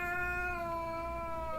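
A cat gives one long, drawn-out meow with a steady, tonal pitch, close and clear over a faint room background.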